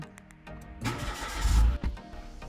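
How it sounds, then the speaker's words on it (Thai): A Mitsubishi Mirage car engine cranks and catches, rising into a loud rumble that briefly dips before settling, close by with no talking. "อันนี้เดี๋ยวต้องลองสตาร์ทรถครับผม"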